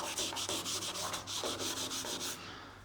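A hand sanding tool rubs back and forth along the body edges of a 1942 Ford being rebuilt, a loud rhythmic scratchy rasp of about a dozen strokes, close and alone.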